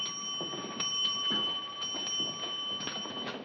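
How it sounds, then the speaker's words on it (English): A ship's clock bell strikes seven bells, a series of bright metallic dings in a quick rhythm, ringing steadily over a thin electronic whine. "7 bells. It's 11:30."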